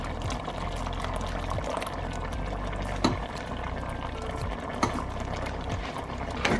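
Tomato sauce poured into a pot of nearly done pinto beans with smoked turkey wings, a steady close liquid pour with soft bubbling and a few light clinks.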